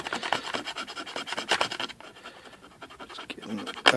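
Dull metal tweezers scrape and rub over a scale model's surface in quick, irregular close-up scratching strokes to weather it, soft and uneven with brief pauses and no speech.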